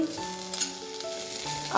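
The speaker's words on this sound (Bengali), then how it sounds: "এখানে উচ্ছে ভাজা হচ্ছে এখন" Bitter gourd frying in a pan makes a soft sizzle under steady tonal hums, with a louder burst of crackle right at the end and no one speaking.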